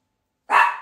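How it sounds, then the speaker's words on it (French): A single dog bark bursts in after half a second of silence, close and fairly loud, with a short tail trailing off. "Elle a aboyé, tu vois."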